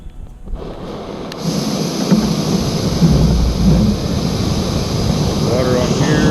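MSR Pocket Rocket 2 camping stove lighting up, then settling into a loud, steady, close roaring hiss from the burner that holds constant throughout.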